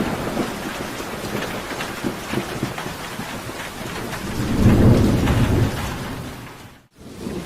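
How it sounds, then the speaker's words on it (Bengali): Heavy rain falling on a house roof on a stormy night, with a steady hiss of drops and a deep rolling rumble of thunder swelling in the middle, then a brief gap before the rain returns. "শুধু ঘরের চালের উপর বৃষ্টির জল পড়ার শব্দ শোনা যাচ্ছিল।"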